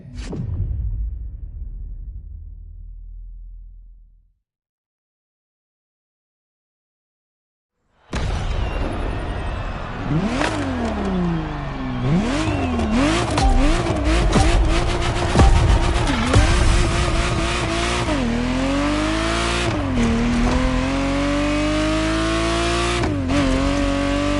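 A Ferrari Testarossa in The Crew Motorfest roars in loud and close after a few seconds of near silence, its engine rising and falling through repeated revs and gear shifts with tire noise.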